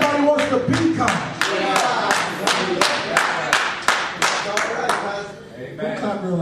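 A church congregation claps along in a steady, rhythmic beat of sharp, evenly spaced claps, with a preacher's voice and crowd noise running underneath.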